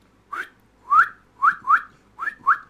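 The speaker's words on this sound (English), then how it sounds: "like instead of just doing a quick whistle" A person whistles in the anime Mobile Suit Zeta Gundam, six short, rising notes in quick pairs, clear and close, with silence between them and no talking.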